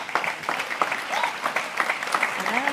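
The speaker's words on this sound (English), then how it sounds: "Please give her a big round of applause." A conference audience gives a round of applause, steady moderate clapping from many hands with distinct individual claps rising above the wash, heard alone without talk.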